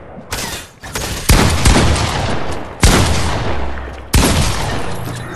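Heavy shotgun fire in a video game: four loud, sharp blasts spaced about a second or more apart, each followed by a long, booming decay that fills the gaps before the next shot.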